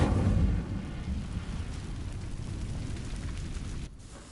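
Incendio fire spell setting dry vines ablaze in Hogwarts Legacy, a loud roaring whoosh of flame that bursts at the start, then settles into a sustained crackling rumble before cutting off sharply near the end.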